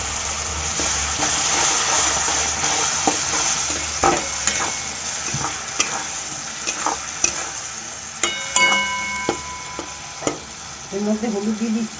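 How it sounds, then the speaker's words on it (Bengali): Ginger, garlic and onion paste frying in a pan for restaurant-style butter chilli paneer, a steady hiss with intermittent clinks and scrapes of stirring, closer clattering near the end, no talk. "এই যে আদা রসুন আর পেঁয়াজ যে পেস্টটা করে রেখেছি এটার মধ্যে দিয়ে দেবো"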